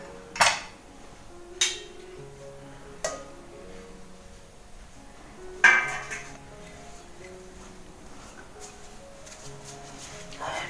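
Food served onto plates with metal utensils, several distinct clinks and scrapes spaced a second or two apart over a low background hum, close and fairly crisp.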